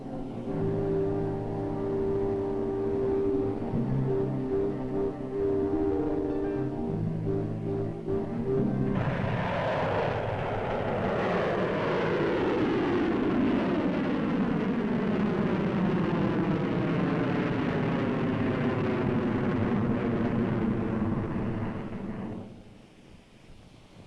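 A Pershing missile launch opens with a steady droning hum, then erupts into a loud, sustained roar with a falling whine that rumbles for over ten seconds before fading.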